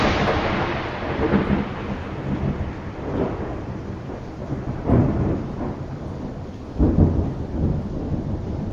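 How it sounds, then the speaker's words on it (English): Deep rolling thunder rumbles repeatedly over steady rain, with several louder booms standing out from the continuous storm. "we see the lightning flash way before we hear the thunderstorm"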